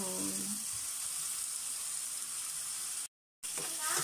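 Pork frying in a pan with vegetables: a steady, close sizzling hiss running throughout, cut by a short silent gap near the end.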